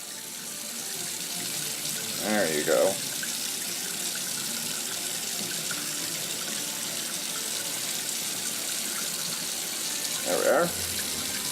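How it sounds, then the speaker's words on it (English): Cold water runs steadily from a kitchen tap into a sink, a continuous close splash and rush throughout, with someone speaking briefly over it twice. "you want to make sure you're having running cold water"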